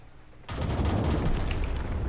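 Tank gunfire in the World of Tanks video game: a sudden loud onset followed by a sustained, rapidly pulsing barrage of shots lasting well over a second, close and heavy.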